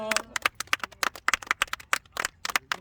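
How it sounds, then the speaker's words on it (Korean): A small group at a golf putting academy lesson claps in thanks, a brisk, uneven burst of sharp hand claps close by and irregular in rhythm, with no talk. "박수로 이제 감사의 마음을 전하겠습니다."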